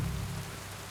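Steady rain hisses down in Kingdom Come: Deliverance 2, an even wash of falling drops with a low rumbling bed beneath, continuous and alone with no voices.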